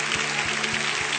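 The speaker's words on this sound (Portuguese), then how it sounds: "Você pode aplaudir o Senhor por essa noite." Church congregation applauding, a dense steady wash of clapping with a faint regular low thump underneath, no talking.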